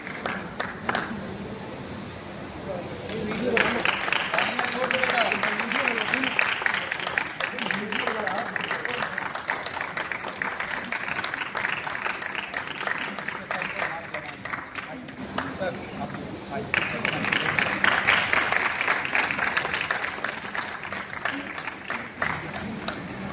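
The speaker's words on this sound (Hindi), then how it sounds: "ताली थोड़ा जोर से बजाइए।" An audience at a religious discourse about Prayagraj and the Maha Kumbh claps in sustained rounds of applause, swelling loud at the start and again later, with a speaking voice heard around it.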